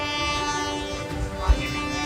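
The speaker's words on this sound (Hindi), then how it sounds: "अब वो गाड़ी जो आ रही है वो गुजरेगी, रेलवे फाटक बंद हो गया" A train rolls past a closed railway level crossing, a dense, continuous rumble with steady tonal hum and a brief thump near the end, loud and close, with no one talking over it.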